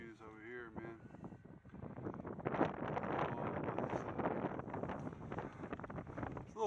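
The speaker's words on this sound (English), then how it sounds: "It's a little windy up here" Wind buffeting the top of a locked fire tower on an Appalachian Trail overlook, a steady rushing roar with gusts swelling louder midway, close on the microphone, with a voice briefly at the start.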